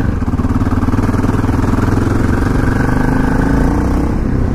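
A KTM LC4 640 single-cylinder motorcycle runs loud and close on a test ride, its rapid engine pulse throbbing steadily for the whole stretch with no talk over it.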